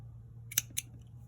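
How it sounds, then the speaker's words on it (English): Scissors snip through crochet yarn, two quick, crisp cuts close together, alone against a quiet room hum. "All you have to do is cut your yarn"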